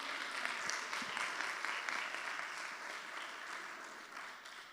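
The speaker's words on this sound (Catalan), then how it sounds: "Aplaudiment per ells" Conference attendees at a round-table event applaud the sponsors, a sustained wash of clapping heard from a distance that slowly fades toward the end.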